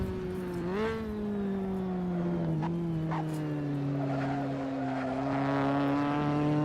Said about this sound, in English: the noise of this car is incredible